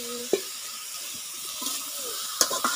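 Bottle gourd and potato bhaji frying in a pan, a steady soft sizzle and hiss with a few clinks of a utensil against the pan, close and alone without voices.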